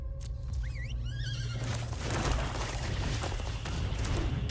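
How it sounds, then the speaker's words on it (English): A horse whinnies shrilly near the start in a Magic: The Gathering digital card game, its wavering call rising and falling over heavy rumbling stomps and a dense noisy background that swells afterward. "Turn off the horse. They're too stompy and whiny."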